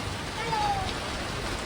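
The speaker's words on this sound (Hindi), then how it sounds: "ये देखो कितनी खतरनाक बारिश है" Heavy rain falls steadily as a dense, even hiss during a monsoon-season downpour, with a brief louder thump near the end and no clear talking.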